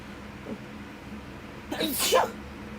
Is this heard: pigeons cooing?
no